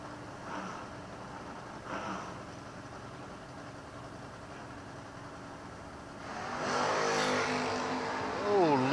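Foot-brake drag race cars idle faintly at the start line, then launch into a loud, rising roar.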